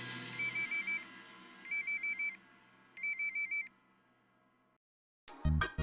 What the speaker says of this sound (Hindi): मिस्टर खान आपके फोन बज रहल बा